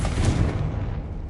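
A Confringo fire spell blast in Hogwarts Legacy on PS5: one loud, broad booming burst that fades quickly over about a second, heard alone.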